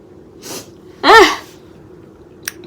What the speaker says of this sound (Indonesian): Sebel banget aku hacim kayak gini.